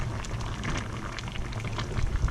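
Orbeez in boiling water give off a steady, dense bubbling and fizzing with tiny pops, close up and continuous throughout.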